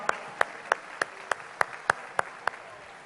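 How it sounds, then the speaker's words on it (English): At a Rotary Youth Exchange presentation, sparse clapping sounds in a slow, even rhythm, about ten crisp, separate claps fairly close by, rather than a full crowd ovation. "Please give these people a big round of applause for this wonderful program."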